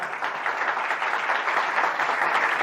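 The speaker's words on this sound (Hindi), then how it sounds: "खुदावंद के लिए जोरदार तालियां बजाओ" A church congregation claps in sustained, dense applause that stays loud and even throughout, with no talking over it.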